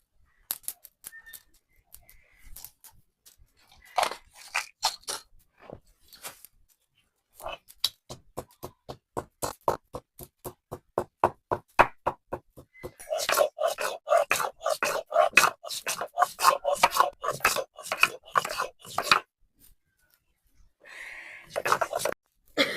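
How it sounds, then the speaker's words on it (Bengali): Garam masala spices are ground by hand for pangas fish bora, making steady, close, rhythmic scraping strokes that become faster and denser midway, with short pauses between runs. "একটু গরম মশলা দেওয়া লাগবে, সেজন্য গরম মশলা একটু বেটে নেব"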